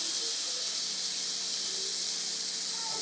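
Cardamom pancake batter hits a lightly oiled hot pan and sizzles with a steady, even hiss that holds unbroken throughout, close and fairly loud, with no talking.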